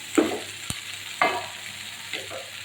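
A dish is stirred in a pan: three separate scraping strokes of a spatula over a faint sizzle, with a sharp metallic tap between the first two, close and clear.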